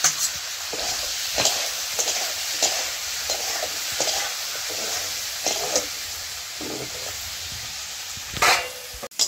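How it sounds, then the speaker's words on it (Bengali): Bitter gourd and potatoes fry in a pan, a continuous close sizzle with a soft hiss and repeated scraping stirs, louder toward the end, with no talk. "উস্তা আলু ভাজা করে লেগেছি"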